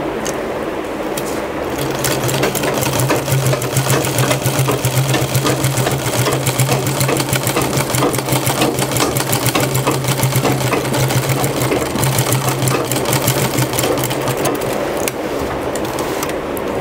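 A sewing machine stitches jute material for a file folder, running in a fast, even mechanical rattle that starts after a brief pause and continues steadily and loudly to the end.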